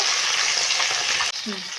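Two sarputi fish sizzling together in a crowded wok of hot oil, a close, even crackling hiss with a short dip near the end followed by a faint clink.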